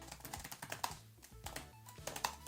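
Quick, light key presses on a Chromebook laptop keyboard, an uneven flurry of soft clicks and taps, close and quiet, with no talking.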